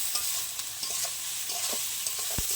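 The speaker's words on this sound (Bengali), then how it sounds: "ভালো করে লাল লাল করে ভেজে নেব পেঁয়াজটা।" Onions sautéing in oil with a little salt until browned, giving a steady soft sizzle with occasional scrapes and clicks of a spatula, close by and without talk.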